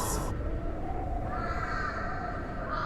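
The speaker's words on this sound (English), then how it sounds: "in the distance, a crow calls." A crow caws in the distance under a dark sky, faint and far off over a steady bed of wind moving through trees.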